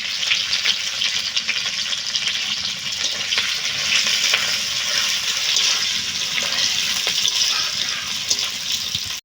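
Onion, green chili and tomatoes frying in a pan make a bright, continuous hissing sizzle, close and even, with faint crackles and no voices.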